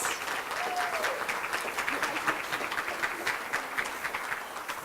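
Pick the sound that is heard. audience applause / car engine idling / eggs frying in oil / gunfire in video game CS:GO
audience applause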